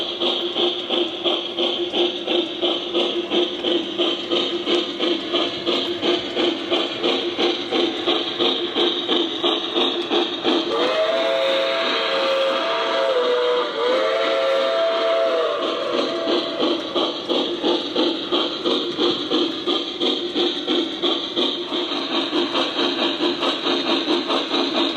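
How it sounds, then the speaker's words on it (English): Model railroad passenger trains in a Boston-themed layout yard, with a steady mid-pitched engine hum throughout and a clear steam-whistle blast in the middle, recorded up close with no talking. "Several passenger trains are dispatched west out of this yard in every operating session."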